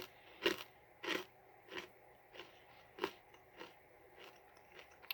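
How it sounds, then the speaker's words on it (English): Chewing on a premium mix mochi ball with peanut gives close, crunchy bites, around eight crisp crunches at a steady pace that fade gradually, with no talking. "But I'll give it a chew here."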